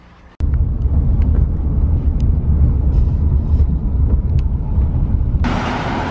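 A ride-share car rolls up close and then pulls away, a steady low engine and tyre rumble that starts abruptly and holds throughout, with a brighter hiss of passing air near the end.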